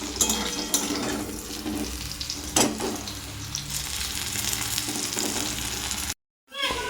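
Food frying in a pan in a home kitchen, with papaya and potato nearby, gives a steady close sizzle and crackle with a few louder spatters and stirring sounds before a brief drop to silence near the end.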